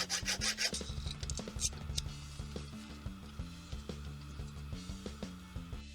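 A metal file rasps in quick back-and-forth strokes on an air conditioner fan motor shaft during a bearing replacement, fairly close, with a steady scraping rhythm and no talk.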